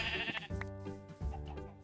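Sheep bleating in Minecraft, a couple of loud close wavering bleats in quick succession with game sounds underneath.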